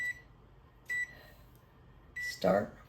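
A kitchen oven beeps as it is switched on to 170 and its timer set: three short, fairly quiet electronic beeps spaced about a second apart, the last followed by a brief knock or click.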